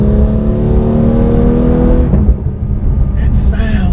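A 2019 Porsche 911 GT3 991.2 engine runs loud and close with a steady high-pitched rev, then drops off partway through. Some faint extra noise follows near the end.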